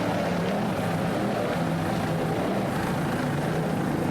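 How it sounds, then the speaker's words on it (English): A racing engine drones loudly and steadily with throttle changes, rough and continuous, with no talk heard. "Nice throttling there by Matt Rice."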